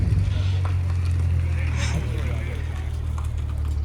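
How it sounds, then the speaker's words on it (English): A Honda S2000 sports car rolls in at an outdoor cars-and-coffee meet in Mill Creek, Washington, a steady low engine rumble that stays even and fairly close throughout, with faint background noise above it. "S2000 rolling in."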